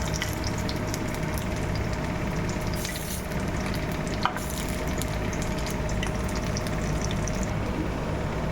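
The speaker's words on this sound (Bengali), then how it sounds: "রসুন আর লঙ্কা, শুকনো লঙ্কা ফোড়ন দিলাম। এবার এটাকে ভালো করে ভাজবো।" Garlic and dried red chillies fry in hot oil with a constant, close, even sizzle that holds steady the whole time, broken only by a single sharp click partway through.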